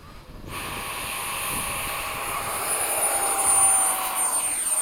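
An FMS 70mm F/A-18 RC model jet flies past, its ducted-fan whine building to a steady loud roar with a high tonal whistle that holds throughout.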